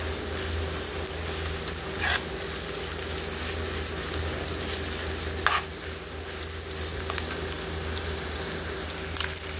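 Ground chicken and tofu frying in a pan for sisig, a steady sizzle running throughout with a few brief louder stirring scrapes, close and alone with no talk.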